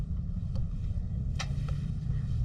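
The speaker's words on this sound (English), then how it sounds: "Heard some fireworks in the distance" Distant New Year's Eve fireworks heard from a Catalina 22 sailboat on the water: a few faint, sharp pops spaced irregularly over a constant low rumble of wind.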